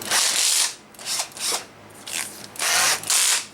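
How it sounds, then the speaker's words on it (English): A power drill spins a case trimmer cutting .45 Colt brass cases in a home reloading setup, in several short, loud, close whirring bursts separated by brief pauses. "I'm going to insert the lock stud into my drill."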